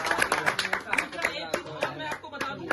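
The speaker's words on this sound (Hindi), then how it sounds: "ताली बजाओ, ताली बजाओ।" A political party gathering in Mewat claps in scattered, uneven bursts, sharp individual claps rather than a full ovation, with voices faint underneath.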